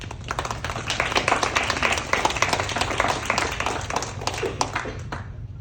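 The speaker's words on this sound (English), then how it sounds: "Give yourselves a round of applause" A crowd at a motivational speaking event applauds itself, dense overlapping clapping sustained throughout at fairly loud level, with a low hum beneath, tailing off at the very end.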